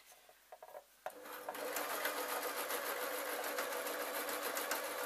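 A sewing machine stitches a baby outfit made from a pillowcase; after a few soft taps it starts up and runs continuously, a fast, even mechanical whir close by.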